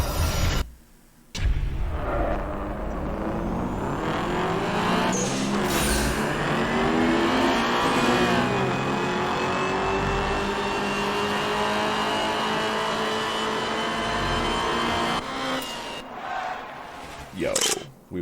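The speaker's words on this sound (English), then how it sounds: "Rev up our car to a decent launch." A car engine in the video game Night Runners revs hard and steadily for several seconds toward 7,000 RPM before a race launch, rising in pitch, with brief breaks near the start and end.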